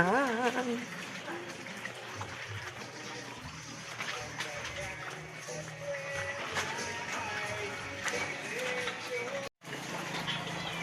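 Water runs steadily into a bucket in a village setting on a rainy day, a continuous gushing fill heard close by while someone speaks over it.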